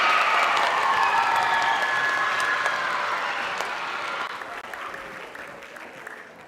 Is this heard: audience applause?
yes